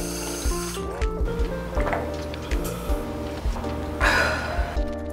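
Water is poured for drinking, with gurgling, glugging splashes in an uneven rhythm, close by and fairly loud, and no talking.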